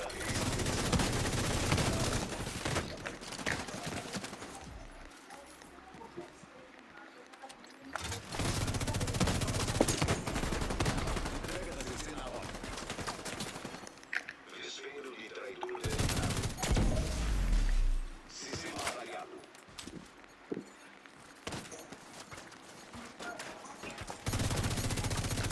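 Bursts of rapid gunfire and volleys of shots in several loud stretches, separated by quieter gaps with faint background noise.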